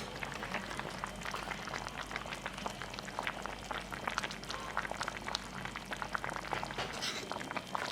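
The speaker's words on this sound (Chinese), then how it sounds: "盖上锅盖，慢慢的给蒸熟。" Chicken and pig trotters simmering in a covered pot, giving a continuous low bubbling boil with faint crackles and ticks, steady and close throughout.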